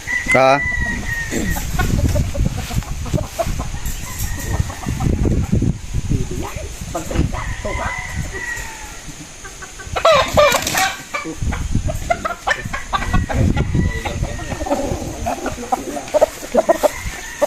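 Gamefowl stags cluck and crow nearby in an outdoor yard, with repeated calls and crows throughout, while someone talks over them.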